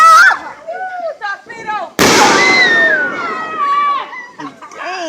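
Fireworks go off outdoors, with one loud, sharp bang at the midpoint, then crackling and whistling trails. People talk and exclaim close by before and after the blast.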